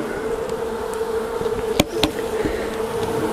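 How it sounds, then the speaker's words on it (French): Honeybees buzzing as a backyard beehive is opened: a steady, close insect hum throughout, broken by a couple of sharp knocks or clicks. "Voilà, donc je vais ouvrir ma ruche."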